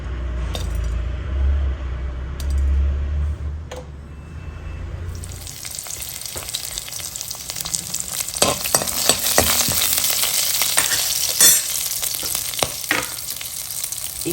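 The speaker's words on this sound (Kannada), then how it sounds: "ಈಗ ಕಟ್ ಮಾಡ್ಕೊಂಡಂಥ ಹಸಿಮೆಣಸಿನ್ಕಾಯಿ ಹಾಕ್ಕೊಳ್ತೀನಿ" Chopped green chillies hit a hot pan with urad dal, bursting into a steady loud sizzle after a few seconds of low rumble, with metallic scraping and clinks of a spoon stirring close by.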